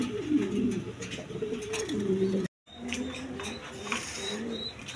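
Andalusian-coloured Danish pigeons coo in repeated low, throaty phrases close by, with a brief dropout in the middle and faint chirps in the background.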